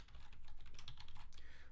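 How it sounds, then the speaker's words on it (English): Rapid typing on a computer keyboard, a quiet, close run of dense clicking keystrokes with no speech. "I'm typing it in the chat right now"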